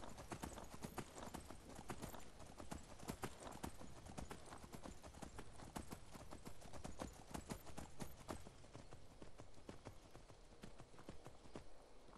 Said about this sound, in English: I'm riding a horse at a million miles an hour